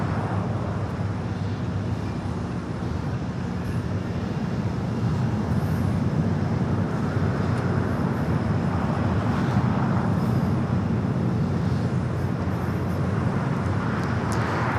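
Delta Boeing 767-400ER jet at Los Angeles International Airport, a continuous broad roar that holds steady with a faint tonal hum, heard at a distance with no talk.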